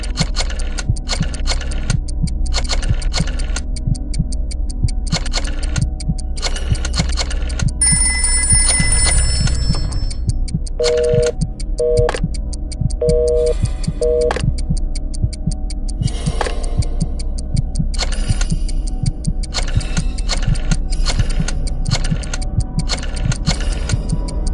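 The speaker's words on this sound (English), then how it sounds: "Dial one of these numbers on your rotary phone before anyone else, or you die." Rotary phone dialing in the Jackbox Party Pack 6 video game, heard as rapid repeated ticking clicks over a steady loud background, with a brief ringing tone and short beeps partway through.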